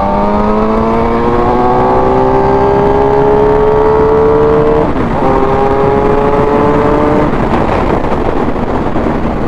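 A 750 motorcycle engine running after repair, loud and close, revving up through rising tones in two long pulls with a brief dip between, a steady strong roar throughout.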